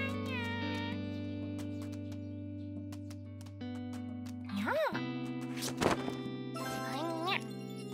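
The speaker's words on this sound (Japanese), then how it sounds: "不思議猫のキューちゃん" A cartoon cat gives a few short meows amid tinkling jingles and bright music tones, with voices speaking around them.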